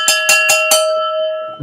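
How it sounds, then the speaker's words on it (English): Four sharp metallic cowbell strikes in quick even succession ring out loud and close, leaving a lingering ringing tone that fades over the next second. "And the only prescription is more cowbell."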